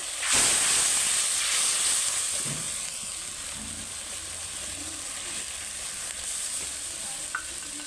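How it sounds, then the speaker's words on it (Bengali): A chilli, turmeric and salt spice paste fries in hot oil for a fish curry, starting with a loud hiss as it hits the pan, then settling into a steady, softer sizzle close by. "দিয়ে ভালো করে তেল ছাড়া পর্যন্ত কষে নেবো"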